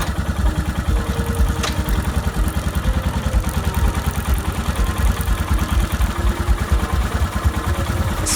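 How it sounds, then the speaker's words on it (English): A Royal Enfield Himalayan motorcycle engine idles steadily up close in first gear, a constant low chugging rumble with a faint clatter throughout. "Start the engine and put on first gear."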